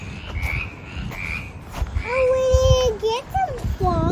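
A chorus of frogs calls loudly nearby, overlapping rising and falling croaks repeating over several seconds against low background rumble.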